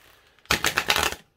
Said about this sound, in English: They will riffle shuffle.